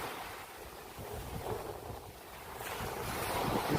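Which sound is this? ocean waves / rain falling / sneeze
ocean waves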